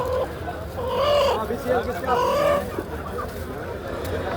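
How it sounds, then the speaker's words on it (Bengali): Poultry clucking and calling at a chicken and duck market in Dammam, Saudi Arabia, where large farm chickens are sold. Several birds are heard nearby, with warbling calls rising above a continuous crowd and market din. "এখানে পাঁচ থেকে ছয় কেজি ওজনের মুরগি ফার্মেল পাওয়া যাচ্ছে"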